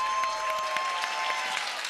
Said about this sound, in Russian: эти аплодисменты 3-й тройки игроков